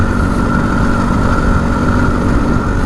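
A dirt bike engine drones steadily on a ride from Chitwan, a loud, constant mid-range hum with rough low rumble close by and no voices.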